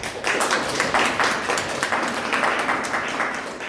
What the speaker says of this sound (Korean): 박수로 환영하시겠습니다